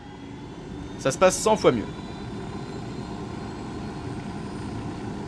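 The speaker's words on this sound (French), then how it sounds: "On prend l'hélico, chers amis." A helicopter in the video game Ghost Recon Wildlands gives a steady, even engine and rotor drone throughout, while someone briefly speaks French over it.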